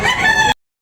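A rooster crows at close range at a cockfighting rooster sale, a single loud, bright call that fills most of the moment and then cuts off abruptly.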